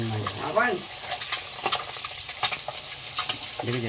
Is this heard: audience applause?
no